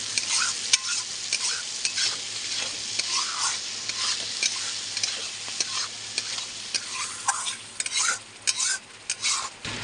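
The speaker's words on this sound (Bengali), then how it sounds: "এবার আমি এটাকে ভালো করে কষে নেব" Chicken and potatoes sauté in spices for Durga Puja chicken kosha. A spoon scrapes and stirs close up in a sizzling pan, making repeated rhythmic strokes over a steady frying hiss.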